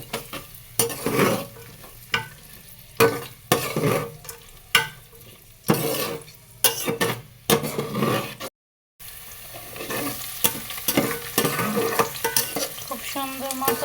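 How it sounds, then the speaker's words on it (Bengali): Onion and garlic, added after whole garam masala, fry in a pan for khichuri, with repeated loud scraping stirs over a steady sizzle and one brief silent break. "খুব সুন্দর মতো পেঁয়াজ ভাজা হয়ে গেছে।"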